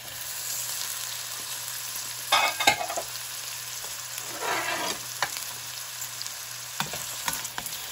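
Onions frying in a hot pan for a pork stir fry, a steady hiss with a couple of louder crackling surges as they are moved about.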